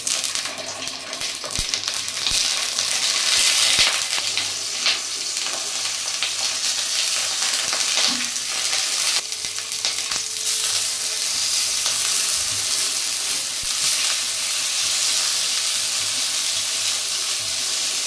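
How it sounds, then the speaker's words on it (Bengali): Steady loud sizzling of tomatoes frying in hot mustard oil in a wok, a continuous crackling hiss with occasional pops, close up and without talk. "এবার টমেটোগুলো বসিয়ে দেব।"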